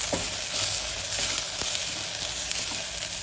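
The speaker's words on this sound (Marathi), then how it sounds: "त्यामध्ये आता लाल काश्मीरी तिखट फोडणीमध्ये टाकायचं" Kashmiri red chili powder hits a hot spiced tempering for Malwani mutton curry and sizzles steadily and fairly close, with a few light clinks of stirring and no talk.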